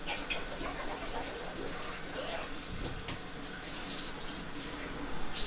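Water runs steadily into a bathtub as dye is rinsed out of an IKEA Markus chair fabric cover, a continuous splashing hiss close by.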